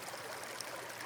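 Gentle flowing stream water, a soft steady wash and trickle heard alone and faint throughout the short stretch.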